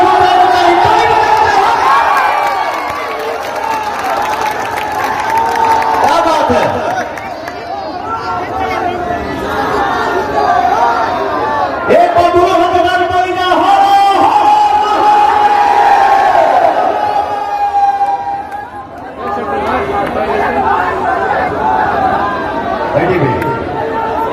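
A large crowd at an outdoor election rally for Pawan Singh in Chandauli cheers, claps and chatters loudly and continuously, swelling in waves, with voices rising over the din.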